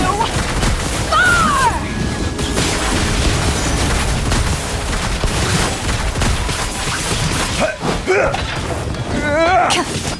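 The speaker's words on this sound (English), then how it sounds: "Here come the fireworks!" Fireworks burst in rapid, crackling volleys during Genshin Impact gameplay, a loud, dense barrage of booms and pops that runs throughout, with game character voices calling out over it.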